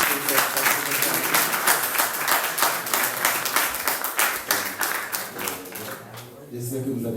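A church congregation at a Pentecost service claps together in steady, fairly loud applause that goes on throughout, easing off near the end.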